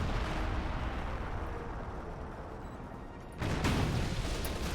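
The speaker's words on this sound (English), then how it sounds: "is ML20 still firing?" An ML-20 artillery piece fires in Company of Heroes 2, a heavy rumbling bombardment under steady battle noise, with a louder boom arriving near the end.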